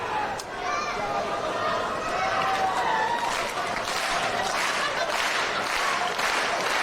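Arena crowd at a professional wrestling match roars steadily for CM Punk, a dense continuous wash of cheering and chatter, loud and sustained throughout, with a commentator talking over it.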